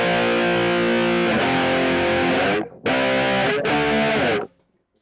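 Distorted electric guitar chords with reverb ring out, stopping briefly, then resuming with more strummed chords before fading into a short decay.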